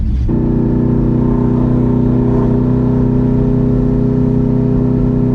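Engine of a 1972 Monte Carlo with an LSA V8 swap, stuck in second gear, drones loud and steady from start to finish with a heavy low hum and no break or shift.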